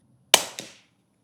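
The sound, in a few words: gunshot fired at a target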